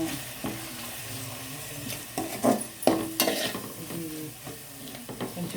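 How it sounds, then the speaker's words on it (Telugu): Chili powder and turmeric frying in hot oil for a Chennai-style fish curry, with a steady close sizzle broken by a few scraping stirs of a spoon in the pan, no voices. "కారం కూడా కొంచెం బాగా వేగనిద్దాం"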